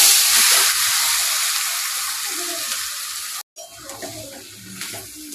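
Mustard oil heating in a kadai with cumin and chilies being dry-roasted, a loud broad sizzle that gradually fades, cuts out briefly, then returns with lighter scraping and stirring sounds.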